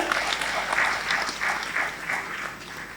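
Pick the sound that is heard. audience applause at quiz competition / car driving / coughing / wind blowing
audience applause at quiz competition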